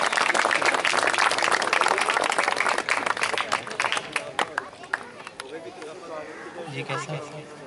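Applause from a seated audience at a farewell ceremony as a gift is presented to a teacher; dense, loud clapping that thins and fades after a few seconds amid murmuring voices.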